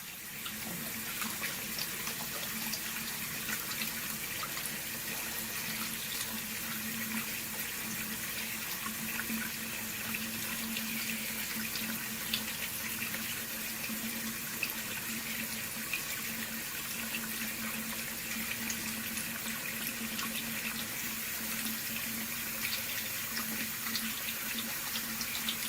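Water runs steadily from a tap fed by a Rheem RTEX-18 tankless electric water heater, a constant hiss and splash that stays even throughout with no speech.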